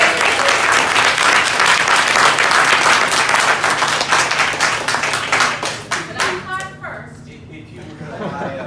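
An audience applauds after a talk on cocktail spirits, with loud, dense clapping from many hands that holds steady and then thins out to a few scattered claps as voices start to come in.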